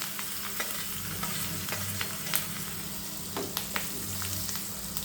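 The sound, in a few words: curry leaves, chilli pieces and peanuts frying in hot oil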